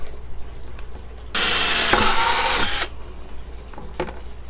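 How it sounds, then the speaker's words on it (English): A drill with a 9/32-inch bit whines loudly for about a second and a half, biting into a plastic 5-gallon bucket, with quiet room noise before and after. "we can again use our 9/32-inch drill bit"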